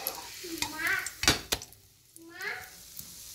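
A vegetarian patty sizzles and fries in a pan, with stirring and scraping of a utensil against the pan and a few sharp clanks mid-clip, moderately close.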